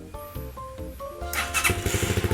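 A 2020 GPX Legend 150 FI motorcycle with low mileage cranks and fires up on the first try, settling into a steady, close engine rumble after a tonal start.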